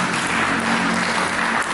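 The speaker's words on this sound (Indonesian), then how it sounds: "Untuk memberikan tepuk tangan bagi Yesus Kristus." A church congregation applauds with dense, steady clapping that fills the room evenly, loud and sustained without any speech.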